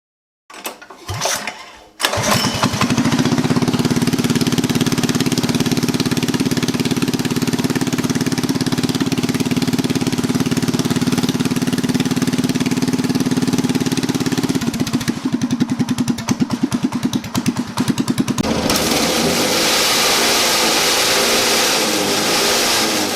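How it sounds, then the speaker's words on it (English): A few quick pulls on a starter cord, then a Predator 212cc small engine fitted with 18lb valve springs sputters to life and runs steadily at a buzzing idle, its tone shifting near the end. "we're going to go ahead and give this engine a pull and see if I did everything properly"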